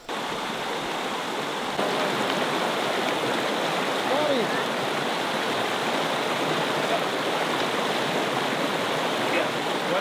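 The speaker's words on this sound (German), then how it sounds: "Oh, da ist ein Fluss." A river in the jungle on a trek in Laos rushes steadily in a loud, broad, unbroken roar that fills the whole stretch from near by.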